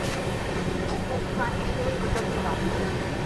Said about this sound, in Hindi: बट अभी धीमे धीमे स्पीड अप कर रही है ट्रेन